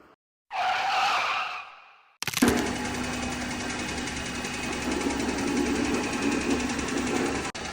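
A new Chinese G4LC 1.4 engine in a Hyundai Solaris suspected of knocking: a short rev fades, then the engine cuts in loud and runs steadily with a dense mechanical clatter throughout.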